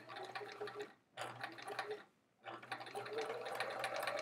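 A sewing machine sews a seam on a quilt block of half rectangle triangles, running in three close, steady bursts separated by short pauses, with the last run the longest.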